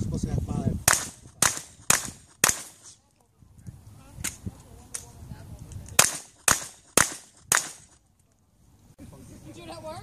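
Guns fired in a shooting drill at a range, two bursts of sharp, loud, closely spaced shots, four then five in quick rhythm with pauses between, with brief talk in the gaps.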